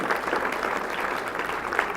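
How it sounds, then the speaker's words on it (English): At a gala dinner, an indoor audience claps steadily throughout, a dense and even wash of applause at moderate distance that neither builds nor fades. "yes, that deserves applause."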